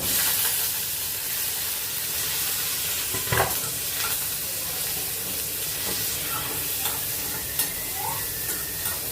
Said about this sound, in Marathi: कांदा आधी चांगला परतून घ्यायचा